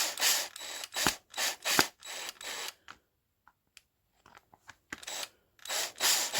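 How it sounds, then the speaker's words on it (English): Screws being driven into a plastic RC car front bumper for an Arrma Kraton 8s, heard as close repeated ratcheting mechanical bursts in clusters, a quiet pause with faint clicks, then more driving. "Now once I do screw these in, and you can see they actually sit inside the bumper"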